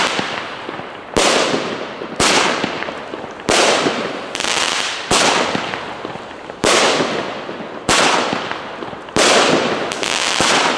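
A 16-shot discount-store fireworks battery fires a series of about nine loud booming shots at regular intervals, each followed by a fading crackle.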